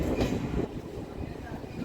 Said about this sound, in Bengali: সাঁতরাগাছি ঝাড়গ্রাম মেমো ট্রেন দিল তিন নম্বর প্ল্যাটফর্মে